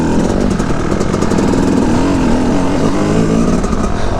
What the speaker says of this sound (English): I can lug a two-stroke up a hill at a nice slow pace and really pick my line.